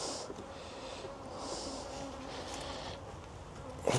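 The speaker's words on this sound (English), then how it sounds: "I've got a bee buzzing around me," A single honeybee buzzes close by at a beehive, a faint, wavering drone that rises and falls as it circles, set against a soft outdoor hiss with no talking.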